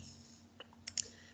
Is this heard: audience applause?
no